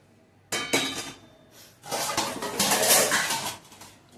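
Pots and dishes washed the night before clatter and clink as they are handled in a home kitchen, a sharp clank followed by a steady run of metallic scraping and rattling close by.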